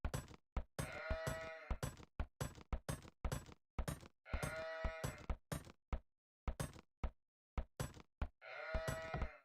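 Sheep in the Age of Empires HD Edition video game give short, repeated bleats between sharp clicks and knocks from the game. The sounds are close and clear.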